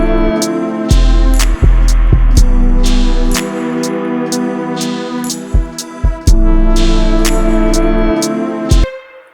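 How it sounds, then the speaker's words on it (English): A looping beat with repeated sharp claps over sustained low tones, each clap trailing a washy, lingering reverb tail; loud and continuous with no talking. "Let's bring that clap back in, and I'm going to turn the reverb up so you can really hear it."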